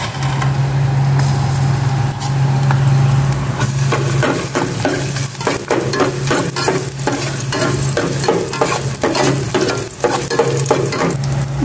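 Garlic sizzles and crackles loudly in hot oil in a small saucepan, with scraping stirring sounds breaking in repeatedly over a steady hiss.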